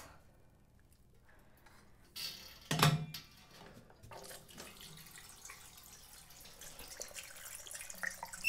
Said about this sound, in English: I'm going to put a decent amount of hot water in here